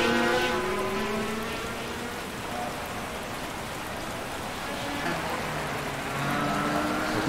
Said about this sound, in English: We definitely got some challenging conditions here. So much rain, my heavens, man.